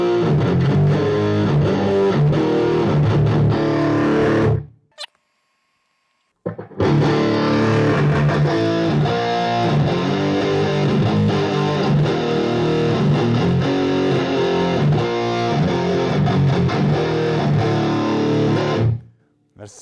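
Loud, heavily distorted electric guitar chords ring out through a cranked Marshall JCM 800 amp, cutting off briefly before resuming with sustained, crunchy playing.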